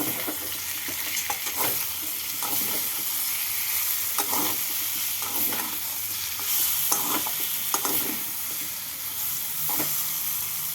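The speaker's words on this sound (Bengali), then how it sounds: "ভালো করে নাড়াচাড়া করে এর মধ্যে দিয়ে দিচ্ছি এক স্পুন চিনি চিনি দিয়ে ভালো করে মিশিয়ে নেব" Fried chhana curry is stirred in a pan with sugar, a steady loud sizzle with repeated spatula scrapes and taps against the pan in an uneven rhythm, close and without talk.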